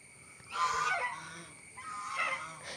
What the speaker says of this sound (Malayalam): പിന്നെ അവിടെ കണ്ട പാത്തേക്കാണ് കേട്ടോ